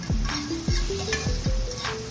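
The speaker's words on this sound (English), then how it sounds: "So we're starting off with the butter in the pan." Butter melts and sizzles in a pan for seafood Alfredo, a loud close crackling fry with a few sharp clanks of stirring.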